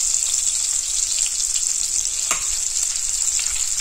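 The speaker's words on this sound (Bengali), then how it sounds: "পনিরটা ভাজা হতে থাক।" Cubes of paneer fry in hot oil in a pan for butter paneer in a home kitchen, giving a steady close crackling sizzle with a single soft clink partway through and no voices.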